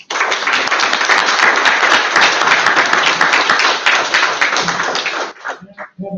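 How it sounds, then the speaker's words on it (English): Applause at a school board of education meeting: a dense, fairly close burst of clapping from a room of attendees lasting about five seconds, then breaking off into a few scattered final claps. "Join me in applause for that."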